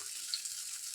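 A brief, steady sizzle of urad dal vadas frying in hot oil, soft and continuous, with no voices.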